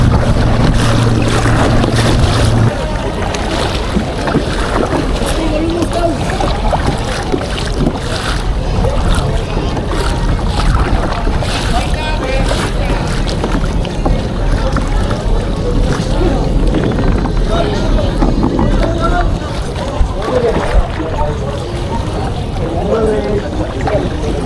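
Strong wind and choppy waves around a kayak during fishing off Cebu, Philippines, in stormy weather, a loud, constant blustery roar and water wash close by, with someone talking over it.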